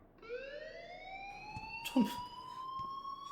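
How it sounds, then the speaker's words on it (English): Electronic alarm in the video game Life is Strange, a rising continuous siren-like tone ringing steadily throughout with a brief bump of other noise partway. "please turn off that alarm since that's your job"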